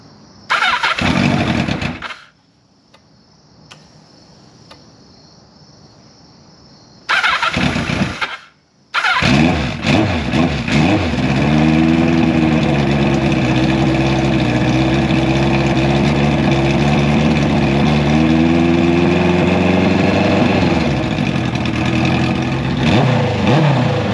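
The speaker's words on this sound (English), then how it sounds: "I will go ahead and see if we can't fire her up." A 1983 Kawasaki GPZ 1100 motorcycle, running rich, cranks with a whirring starter in a couple of bursts, then catches and settles into a loud, steady, close idle that carries on to the end.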